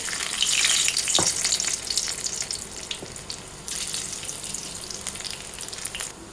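Chopped garlic is tossed into hot oil for fried rice made with leftover refrigerated rice, sizzling and crackling loudly with occasional stirring clinks, no talk.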